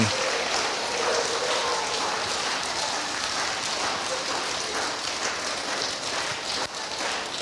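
A school audience claps for student of the month, dense steady applause that holds at full level for several seconds before tapering slightly near the end.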